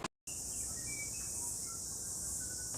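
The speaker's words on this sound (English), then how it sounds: "Yes, those are cicadas and a tui out there" Cicadas drone outside in a constant high, loud chorus, with faint whistled bird calls from a tui weaving through, after a brief silent gap at the start.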